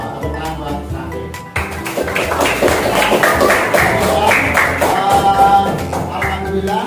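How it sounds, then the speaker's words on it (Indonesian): A classroom group applauds a student named Rafiq. Scattered claps start after a short pause and build into moderate applause that lasts several seconds, mixed with crowd murmur. "tepuk tangan buat Rafiq"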